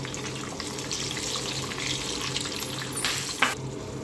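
Green chilies and curry leaves fry in hot oil, a steady, close hiss and sizzle that holds throughout, with a brief clatter near the end.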